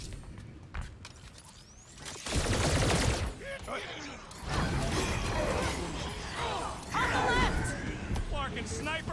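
Sniper gunfire from Larkin snipers in the Guardians of the Galaxy game, with loud broadband blasts and crashing impacts in a busy combat scene, under excited talking voices.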